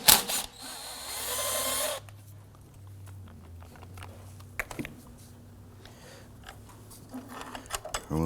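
Tool loosening an 8mm bolt on a 2008-2011 Ford Focus during a transmission mount job: a short close burst of power-tool whirring, then faint clicks and small metallic taps as the bolt is removed.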